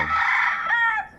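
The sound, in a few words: Chinese silkie chicken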